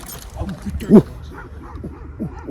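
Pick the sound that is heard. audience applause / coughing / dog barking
dog barking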